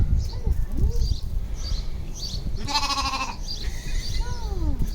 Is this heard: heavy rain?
no